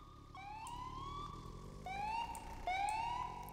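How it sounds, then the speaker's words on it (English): A police siren in the Roblox game Anomic wails in repeated rising sweeps, fairly faint and steady, with no talking. "Ambulance."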